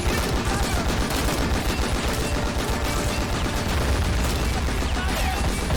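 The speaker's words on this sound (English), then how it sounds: "Crazy exchanging fire." Sustained, dense gunfire from a large video game battle simulation, with overlapping rifle and machine-gun bursts and distant booms forming a constant loud barrage with no pauses.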